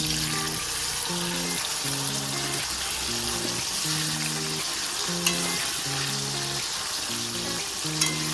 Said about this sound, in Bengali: তেল দেওয়া হয়ে গেছে কড়াইয়ে দেখতে পাচ্ছ তোমরা এখন আলুগুলো ভাজে নিচ্ছি